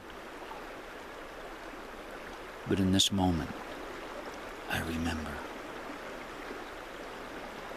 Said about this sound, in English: I remember the sound of the river and the current